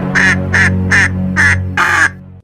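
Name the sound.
cartoon duck quacking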